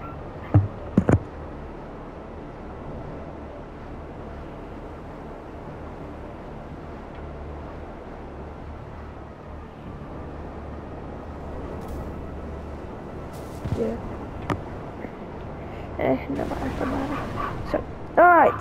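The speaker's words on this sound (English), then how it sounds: "So my dog is barking in the background." A dog barks in the background, a few sharp yips and barks at the start and more toward the end, over a steady low hum of game audio.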